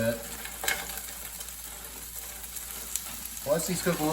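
Green bell pepper and potatoes fry in a pan with a steady close sizzle, a few sharp crackles, and a burst of stirring and scraping toward the end.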